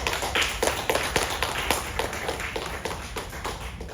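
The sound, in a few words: audience applause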